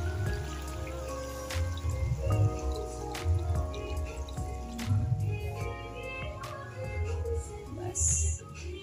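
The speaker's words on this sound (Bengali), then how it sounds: "জল দিয়ে দিল এখন সুন্দর করে কারিটা হবে রেডি" Water is poured into a pot of chicken curry, making splashing, bubbling and dripping sounds that come and go with clinks, heard up close with no voices.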